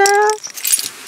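Car keys jangle sharply up close for a brief moment, a bright metallic rattle that fades into softer handling clicks.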